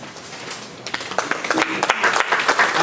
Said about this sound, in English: Actually, you can hold the applause